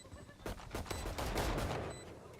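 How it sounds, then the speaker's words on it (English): Bursts of rapid automatic gunfire during a Valorant esports match, several quick volleys in close succession, loud and sharp over a busy game soundscape. "Rapid fire as they approach."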